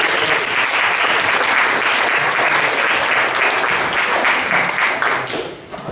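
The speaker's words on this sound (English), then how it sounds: "So round of applause." A crowd at an improv comedy show breaks into loud, dense applause that stays strong and even, then tapers off slightly in the final second.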